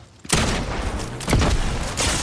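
Rapid repeater rifle fire in an online ranked video game match, with loud, dense bursts of shots and booms following a brief quiet opening and continuing to the end.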